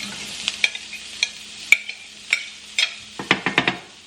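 Onions, garlic and mushrooms sizzle in a pan while a utensil stirs and scrapes, giving irregular clinks and scrapes over a soft, steady frying hiss, close and clear.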